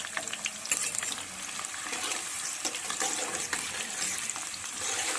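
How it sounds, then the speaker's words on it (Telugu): Onions frying in a pan on a home stove give off a steady, bright sizzle with faint stirring scrapes, moderately close and continuous, with no one speaking. "ఆనియన్స్ వేసుకొని ఫ్రై చేసుకుందాం"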